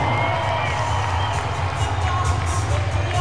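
A basketball arena crowd cheers for the Western Mustangs cheer squad, a continuous loud roar of shouts and whoops with some clapping and a steady low hum underneath.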